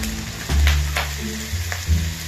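Soy sauce hits a hot pan of adobong pata and sizzles loudly, a steady frying hiss with brief bursts as the food is stirred, close up and without voices.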